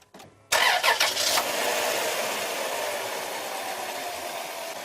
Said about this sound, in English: we're going to start the engine